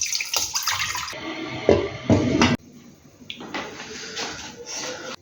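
Chicken stock is poured into a pot of butternut soup, a splashing gush of liquid that runs in two bursts, then softer trickling and sloshing follows.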